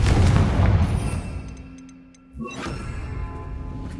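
A Confringo fire spell explodes in the Hogwarts Legacy video game: a loud broadband burst at the start fades, then a second sharp blast hits midway, followed by a lingering rumbling tail.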